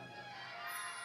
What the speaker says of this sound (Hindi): और बैठते बैठते बोलो सीताराम।